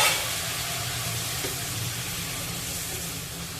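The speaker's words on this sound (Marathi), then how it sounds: "तर आता यामध्ये मी ही साफ केलेली कोळंबी घालते" Cleaned prawns go into sizzling masala in a pan, setting off a loud, dense, steady frying hiss that starts strongest and settles into an even sizzle.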